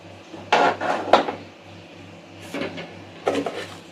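Metal kadai set down on a stove for cooking horse gram kuzhambu, with a few sharp clanks and scrapes of metal cookware amid quieter kitchen handling and a low steady hum.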